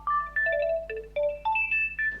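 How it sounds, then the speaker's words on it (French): An electronic phone ringtone plays a bright, beeping melody of short tones in a quick, repeating pattern, clear and close, with no voices. "La sonnerie de téléphone de la CPE."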